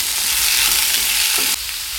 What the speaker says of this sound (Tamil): காய்கறி இந்த எண்ணெயில் நல்லா வதங்கட்டும்.